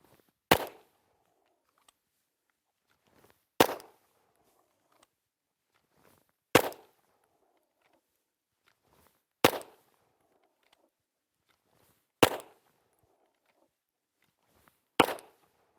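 Six sharp, loud shots from a Glock pistol fired into 2x4 boards, spaced evenly about three seconds apart, each crack followed by a brief decay in otherwise quiet surroundings.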